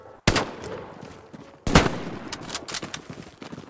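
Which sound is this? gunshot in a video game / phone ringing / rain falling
gunshot in a video game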